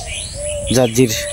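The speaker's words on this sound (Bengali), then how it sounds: "ঘুঘু পাখি ডাকতেছে, বিভিন্ন ধরনের পাখি ডাকতেছে।" Doves and other birds calling in the early morning, a steady thin whistle-like call running throughout, joined midway by two short loud chirping bursts close by, with a voice speaking briefly.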